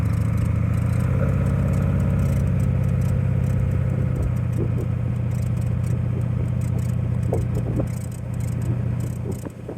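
A car engine hums steadily at a low pitch as the vehicle drives along, with occasional light clatter and road noise throughout.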